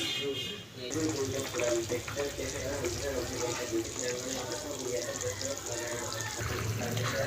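Water poured into a pan of oil-fried spice paste for a thin parshe fish curry, sizzling and bubbling steadily throughout, with a brief pour-like rush near the start.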